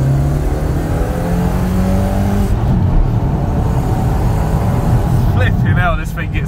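A car with broken ESP and traction control left on accelerates hard up to speed, its engine note climbing loudly from inside the cabin while someone talks over it.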